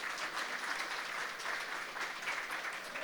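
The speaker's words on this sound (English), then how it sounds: "Someone was trying to give a little bit of applause." Brief audience applause during a panel on Poland, Europe and global economies, a light, even patter of clapping at moderate level with no speech over it.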